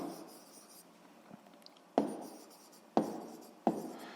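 A number being written by hand during a sixth-grade math exercise: a few short, scratchy strokes, close and fairly quiet, spaced about a second apart with faint rustling between.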